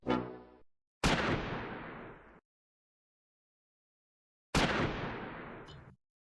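Bazooka squad firing on a German Befehlspanzer command tank in the World War II game Close Combat 4: two loud, separate blasts about three seconds apart, each a sharp crack followed by a long decaying rumble, with a short muffled sound just before the first.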